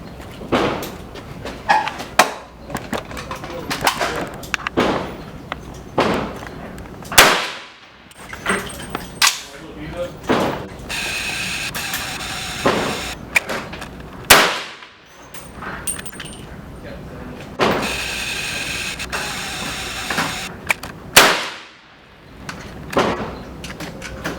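Gunshots from a .38 Special revolver firing Matt's Bullets 157-grain cast full wadcutters at an outdoor range: a series of sharp, loud cracks spaced several seconds apart, with fainter shots and handling noise between and voices at times.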